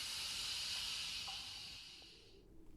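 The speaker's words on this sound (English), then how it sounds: "The serpent inhaled, which sounded like steam passing through a large pipe." A serpent inhales with a long, steady hiss like steam forced through a large pipe, loud and close, fading out after a couple of seconds with no voices.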